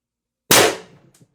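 A single suppressed air gun shot firing 10 gram ammo at 1,000 psi through a threaded aluminum barrel with a Reaper suppressor, a sharp close pop that decays quickly, followed by a faint metallic click.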